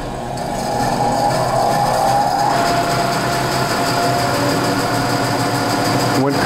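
A band saw runs steadily after being switched on, a constant whirring drone that holds at an even level throughout, with a brief clatter near the end.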